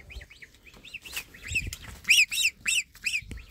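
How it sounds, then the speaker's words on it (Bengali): A breeding pair of Fischer's lovebirds chirps in quick, shrill bursts, with the calls growing louder and more clustered partway through and set against soft background rustling. "আমার ইয়ে হলো ফিসার লাভ বার্ডগুলো, ব্রিডিং পেয়ার যে জোড়া"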